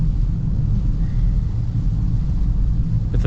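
Steady low road rumble and faint whine from a 2024 Mercedes S580e plug-in hybrid gliding along in electric mode, smooth and quiet with no engine note, heard from inside the cabin.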